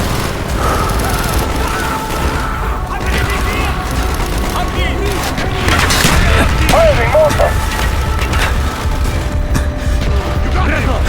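Mortar strikes and gunfire in Call of Duty Black Ops, with dense battle noise, booms and rapid shots under a constant loud roar, along with shouted voices in the scene.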